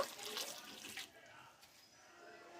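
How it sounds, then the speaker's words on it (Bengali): Water being poured in a small amount into a pan of cauliflower florets in a wok, a brief soft splashing trickle that fades after about a second, leaving a faint background hiss. "আমি অল্প করে একটু জল দেব"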